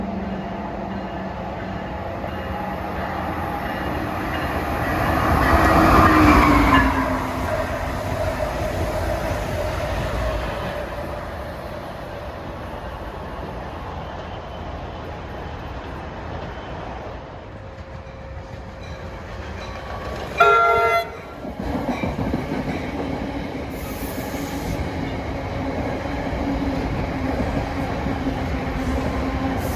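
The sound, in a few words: Amtrak train 609 New York–Harrisburg approaching, horn sounding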